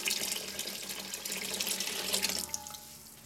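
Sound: filtered water being poured into a cooking pot for chorba

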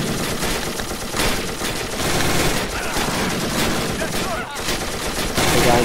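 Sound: supporting gunfire in Men of War Assault Squad 2 video game

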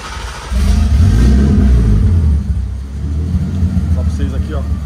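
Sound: BMW 328 E46 turbo six-cylinder engine starting

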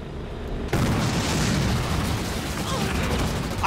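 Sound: artillery fire barrage in the video game Halo Wars 2

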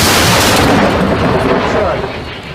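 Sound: artillery gun firing a shot

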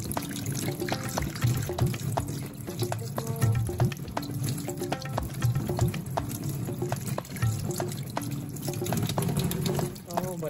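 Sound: water running while washing a lionfish

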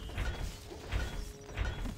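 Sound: ballista mechanism winding, video game

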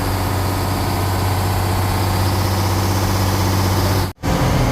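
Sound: launch diesel engine running

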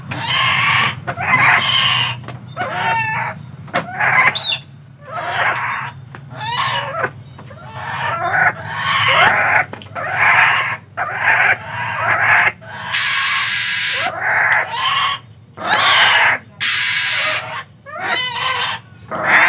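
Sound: ruarwa (mandar batu) bird calling

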